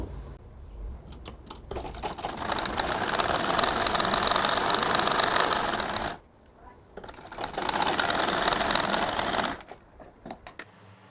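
Sewing machine stitching a fatua in two long continuous bursts of rapid motor-driven whirring, separated by a short pause, with a few light clicks at the start and end.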